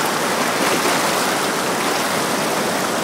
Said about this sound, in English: the water's coming in, the water goes out, and then the water comes back in the ocean